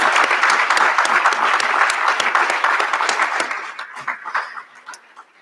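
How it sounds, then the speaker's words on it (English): A ceremony audience applauds graduates' families with dense, steady clapping that holds loud for several seconds, then thins out and fades toward the end. "Please join me in applauding them"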